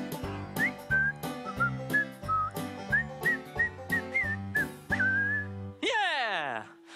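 A person whistles a cheerful tune close by, short melodic notes over a plucked instrumental backing, ending with a rising slide.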